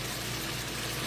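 One cup of water is poured into a pot for lemon chicken and buttery pasta, a steady unbroken rush of liquid, close and fairly quiet, with no voices.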